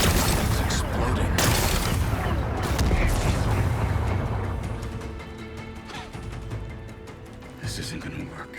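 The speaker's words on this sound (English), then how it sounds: "It's exploding." Rock-blasting explosion in Horizon Forbidden West, a heavy, rumbling boom with crashing debris that fades over several seconds while a character talks over it.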